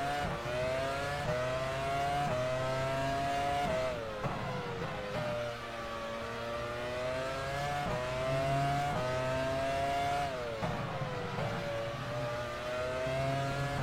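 F1 race car engine in the video game F1 Career Challenge, a continuous high-pitched whine that dips and climbs repeatedly as the car brakes, shifts and accelerates through corners, with no talking.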